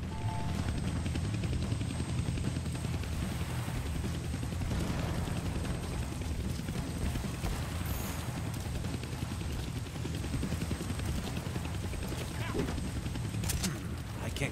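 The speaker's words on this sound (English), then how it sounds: "Can't kill that chopper with my guns." A helicopter in the Deadpool video game on PS4 hovers and flies with a steady, dense rotor and engine roar, loud and continuous throughout with a faint game voice underneath.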